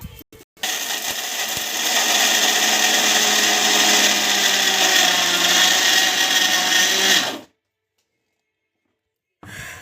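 A mixer grinder whirs loudly and steadily for about seven seconds, blending laddu ingredients, then cuts off abruptly into silence; a few brief knocks come before it starts.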